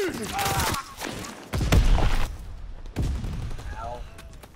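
Gunfire and booming impacts in a first-person shooter video game, with loud bursts of shots and thuds in rapid clusters mixed with chaotic battle noise.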